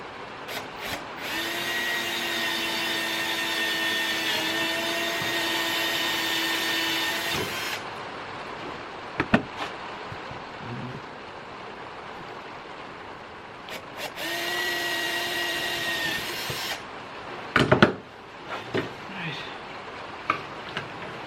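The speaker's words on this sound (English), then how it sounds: "Drill a couple of holes in this wee aluminium piece here" A power drill whirs steadily for several seconds, drilling 4mm holes in a small aluminium piece, stops amid light clattering, then drills again for a second burst, close by.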